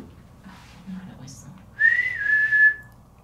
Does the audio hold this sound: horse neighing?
no